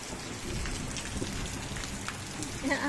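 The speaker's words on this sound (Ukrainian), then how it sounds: "Ви дивіться, який у нас дощ. Оце пустився." Heavy rain pouring down outdoors during a thunderstorm, a dense continuous roar of drops on surfaces, close and steady, with a faint sound emerging at the very end.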